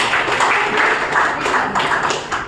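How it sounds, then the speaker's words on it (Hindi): Sustained applause from a crowd at an indoor get-together in Dehradun, a dense, steady wash of clapping heard close and fairly loud, with no voices over it. "मैं चाहूँगा दीदी की एक बार जबरदस्त ताली"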